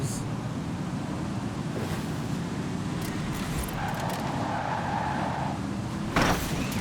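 A Raesr Tachyon in Forza Horizon 4 corners with a continuous roaring whoosh of engine and road noise, a tire-scrub tone rising briefly mid-turn and a sharp burst near the end.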